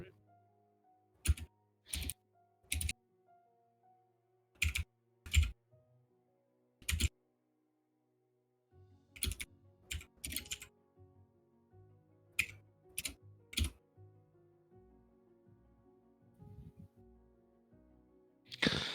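Computer keyboard keys clack in sparse single taps and short quick bursts over a soft tonal background, with brief voices at times.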